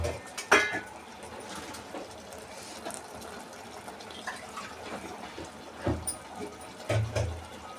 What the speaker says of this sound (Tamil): இப்போ இது கூட நான் கொஞ்சம் தண்ணி ஆட் பண்ணிக்கிறேன்